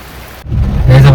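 Heavy rain pours at the Aanayadikuth viewpoint, a dense steady hiss that swells suddenly louder after a brief lull, with a low rumbling undertone beneath the downpour.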